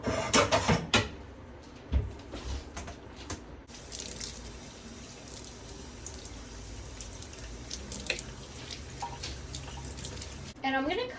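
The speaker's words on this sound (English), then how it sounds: "I'm gonna go ahead and rinse off these mushrooms" Water from a sink tap runs steadily while a container of mushrooms is rinsed, with clattering handling noises near the start and end.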